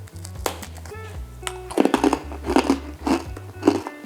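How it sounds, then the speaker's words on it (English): Crisp crunching bites and chewing of a mulled wine cookie, several sharp crackles close up, with a low repeating background hum. "The outside super crisp and crunchy. As you start crunching through it, it becomes very chewy."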